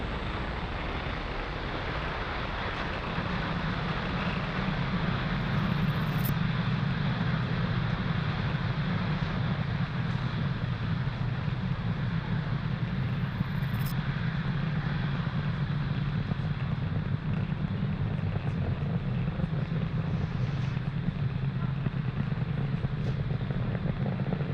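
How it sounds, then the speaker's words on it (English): SpaceX Falcon 9 rocket climbing after liftoff from pad 40 in Florida carrying an Inmarsat satellite, a continuous heavy low rumbling roar with wind-like buffeting, steady and loud throughout. "Falcon 9 has successfully lifted off from pad 40"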